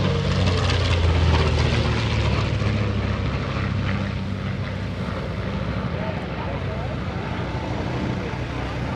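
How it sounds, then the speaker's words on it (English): A Grumman-designed, General Motors-built TBM Avenger warbird flies past at an airshow over Greenwood Lake, a loud continuous piston propeller roar that peaks early and then slowly fades, with a public-address announcer talking over it. "General Motors built TBM Avenger, originally designed and built by Grumman."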